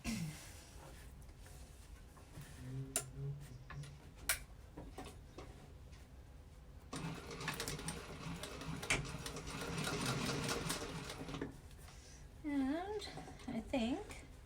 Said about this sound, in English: So now I'm just going to baste those together after I top stitch this.